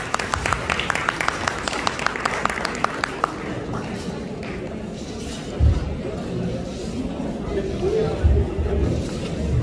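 An audience at a Ghazali Education Trust UK fundraising dinner at Royal Nawab London bursts into dense clapping for the first few seconds, then thins into a murmur of voices and room noise.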